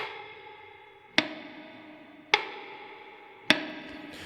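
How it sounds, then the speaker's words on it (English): Three plucked guitar notes through a reverb pedal with pre-delay at zero, evenly spaced, each ringing out into a reverb wash that starts the moment the string is struck. "if I pick a plucked note very dry like this with the pre-delay at 0"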